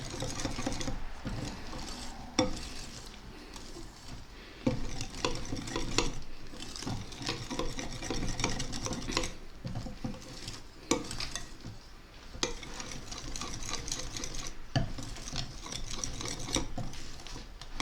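Egg whites folded by hand into homemade dark chocolate mousse, with steady scraping and stirring strokes of a utensil against a bowl, close and continuous with occasional sharper knocks.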